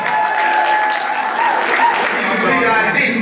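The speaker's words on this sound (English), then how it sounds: "Everybody clap it up, clap it up" Steady, close audience clapping at a youth showcase performance, dense and continuous, with a performer talking over it.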